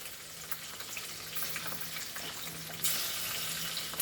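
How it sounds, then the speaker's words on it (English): French beans, chilies and garlic fry in a pan with a steady, close sizzle throughout, with a louder hiss surging near the end and no talking. "Let French bean, chilies and garlic fry."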